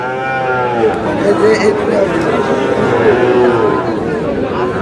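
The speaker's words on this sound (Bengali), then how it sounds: "সব হাই ক্লাসের গরু।" Sahiwal cattle, including young bull calves, low and moo at a farm in Sherpur, with long resonant calls overlapping under a steady murmur of nearby voices and crowd chatter.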